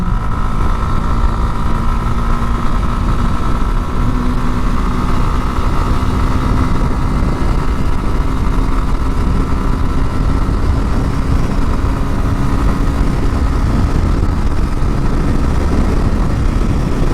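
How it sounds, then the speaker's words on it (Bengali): A motorcycle with about 40,000 kilometres on it accelerates hard in fourth gear, its engine a loud continuous roar with steady wind rush close to the rider throughout. "এই চার নাম্বার গিয়ারে আমি টান দিলাম"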